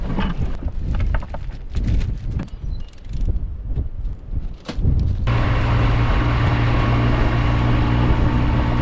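Wind blows outdoors over a field, first as gusty buffeting and rustling, then as a steady, loud roaring rush in the second half.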